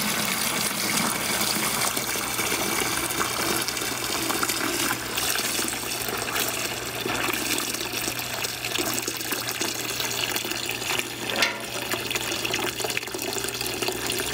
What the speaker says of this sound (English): There's a lot of fuel in it. Let's dump it out and see what it looks like.